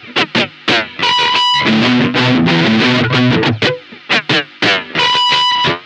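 Electric guitar played through a distortion pedal tweaked for a gnarly sound, choppy chords and sustained gnarly notes, loud and close.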